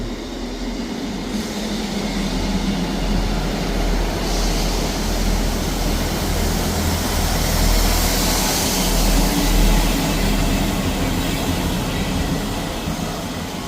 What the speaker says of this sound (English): arriving in now is the 11:40 ScotRail service from Perth to Edinburgh Waverley. 158731.